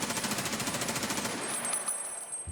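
Rapid automatic gunfire from a video game on the Shoreline map, a steady rattling burst of evenly spaced shots for about a second and a half, then a high ringing tone as the firing stops.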